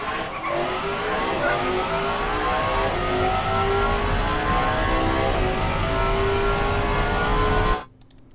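A 2018 Athena Hermes hypercar in Automation accelerates hard, its engine roaring loudly and climbing through rising pitch with tire squeal for several seconds before cutting off abruptly.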